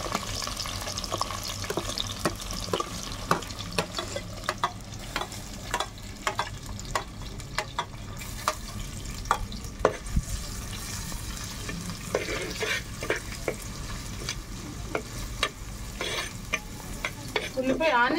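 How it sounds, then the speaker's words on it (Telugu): Onions fry in oil in a pan over a wood-fired stove, a steady crackling sizzle punctuated by frequent sharp ticks and scrapes of stirring, close and fairly even throughout, with no talk. "ఉల్లిపాయ ఆనియన్స్ మనకి ఇటువంటి బ్రౌన్ కలర్లో బాగా వచ్చేటట్టుగా వేగాలి."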